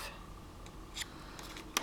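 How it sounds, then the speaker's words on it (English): Small scissors snip while trimming fabric embellishments for a dress form, a few crisp, close cuts at about one, 1.4 and 1.75 seconds over a quiet room. "So I'll just grab my smaller scissors for this, I think."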